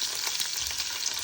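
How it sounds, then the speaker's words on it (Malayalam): Cloves, cardamom, cinnamon and raisins fry in hot ghee for ghee rice, giving a steady, close crackling sizzle with faint stirring and no voices. "കുറച്ച് ഞാൻ ഈ കറാമ്പ് ഇടുന്നുണ്ട്, ഏലക്കായി, പട്ട, ഇങ്ങനെയുള്ള സാധനങ്ങളിൽ ഈ മുന്തിരിങ്ങിൻ്റെ കൂടെ തന്നെ ഇടുന്നുണ്ട്"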